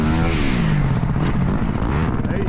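A 450 motocross dirt bike engine roars loud and close with a steady, rising drone that wavers in pitch as the rider holds the throttle, with no talk over it.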